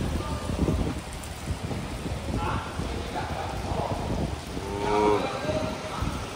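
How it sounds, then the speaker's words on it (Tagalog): Heavy rain pours down as a steady, loud hiss that fills the whole clip, with muffled voices talking underneath. "bumuhos yung ulan"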